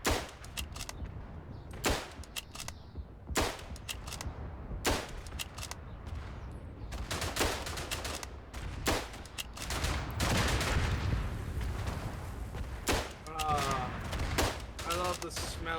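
Battlefield explosions and gunfire from an artillery barrage in the World War I shooter Verdun, loud repeated blasts at irregular intervals over a constant rumble of combat, with voices talking over it.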